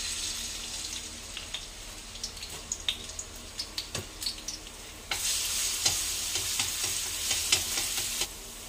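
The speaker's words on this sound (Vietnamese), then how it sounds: "Cái này mình xào sa tế đi." Pork stomach stir-fried with satay chili paste and minced garlic, a steady sizzle with scattered clinks and scrapes of stirring that swells louder and denser midway, close up with no talk.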